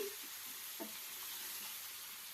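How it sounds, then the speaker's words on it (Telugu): Fish curry being gently stirred with a ladle in a pot, a steady bubbling sizzle throughout with faint, soft scraping strokes at a slow pace. "సో ఈ రకంగా కలపాల్సి ఉంటుంది మెల్లిగా గరిట దింపుకుంటూ కలపాలి"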